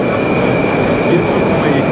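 A Moscow metro train runs through an underground station with a loud, steady rumble and a sustained high whine, continuous for the whole stretch.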